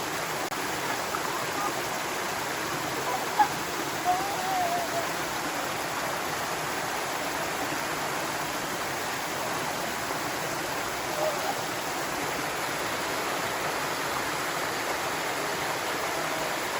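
A forest stream and waterfall near old mill remnants produce a steady, broad rushing of water, even and unbroken throughout, with a couple of faint brief sounds over it.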